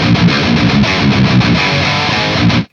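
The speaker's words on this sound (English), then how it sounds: "it just sounds so typical modern high gain, because we've heard this tone so much, that kind of distortion" An electric guitar runs through a high-gain amp with a tight, modern, in-your-face distortion, played as a loud chugging riff with quick rhythmic palm-muted hits before the sound cuts off abruptly.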